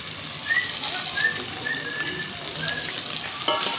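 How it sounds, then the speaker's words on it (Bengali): Food frying in a pan with salt and turmeric, stirred through a steady hiss of sizzling oil, with a few scraping strokes and a louder clatter near the end. "ভালো করে নাড়াচাড়া করে নেব।"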